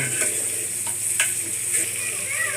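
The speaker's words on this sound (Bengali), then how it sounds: "সব কাঁচা আমগুলো দিয়ে ভালো করে ভেজে নিয়ে সব বাটা মশলাগুলো" Sun-dried raw mango pieces and spices sizzle in hot oil for a pickle, with a few scraping stirs across the pan in a short, steady close-up.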